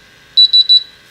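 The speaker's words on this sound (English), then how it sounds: "And our instrument is in alarm" A portable gas detector instrument goes into alarm at a bumptest station, sounding three loud, sharp electronic beeps in quick succession, close and alone.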